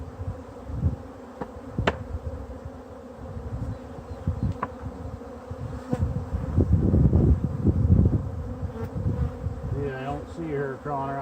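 Upset honeybees swarm and buzz around a hive torn open during a frame inspection, a dense, close, continuous drone with occasional knocks and thumps from handling the frames.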